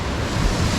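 Ocean surf rolling onto a wide, empty Mexican beach, heard as a steady, close, full-bodied roar with a touch of wind buffeting the microphone and no voices.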